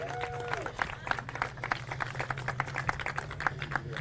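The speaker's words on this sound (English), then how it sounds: "a little round of applause for Evan as well" Scattered clapping from a small crowd at a TA2 race award ceremony at Lime Rock Park, irregular claps over a steady low engine hum, with voices talking throughout.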